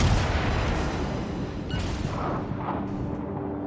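Battleship guns firing in a naval video game, a dense, loud roar of booming artillery and explosions that is strongest at the start and keeps rumbling without a break, with no speech.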